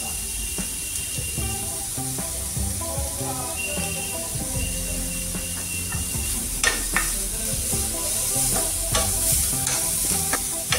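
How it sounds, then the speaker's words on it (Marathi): Cauliflower frying with turmeric in a pan for aloo chaat, sizzling steadily while a spoon stirs and scrapes, the clatter growing busier toward the end, with faint tonal background sounds. "याचा कच्चेपणा निघेपर्यंत थोडंसं आपण याला फ्राय करून घेणार आहोत।"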